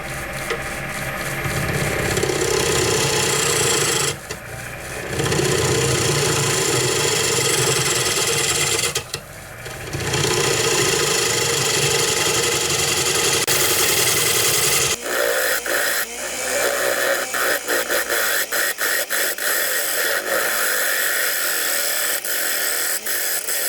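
A wood lathe hollows a dish turned from offcuts with a carbide cutter, giving a loud continuous whirring, scraping drone with brief dips as the cut pauses, then a rougher, more broken rasp toward the end.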